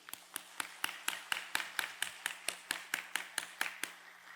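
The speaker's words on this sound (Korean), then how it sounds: "하나님께 영광의 박수를 올려드립니다." A church congregation at a Sunday worship service claps in steady unison, about eighteen evenly spaced claps in a quick rhythm, faint and somewhat distant, over a low constant hum.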